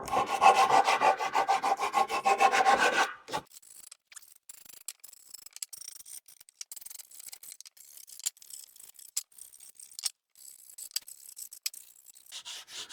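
Hand rasping or sawing at tear-out inside a wood dado on a privacy wall build: a loud, rhythmic scraping stroke pattern for about three seconds, then only faint scattered ticks and scrapes.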